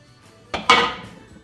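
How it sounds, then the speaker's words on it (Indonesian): A metal wok is set down onto a stove burner, giving two quick clanks close by, the second louder with a brief metallic ring that fades. "Nah sekarang saya mau kasih naik saya mau wajan dulu ya"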